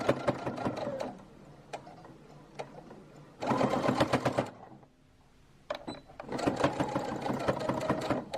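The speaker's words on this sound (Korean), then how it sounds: "재봉틀로 드르륵 박아도 되더라고요" A sewing machine stitches a fabric bag in rapid rattling bursts, with a loud run, a pause, another run, a short quiet gap and then a final steady burst, all fairly close and without talk.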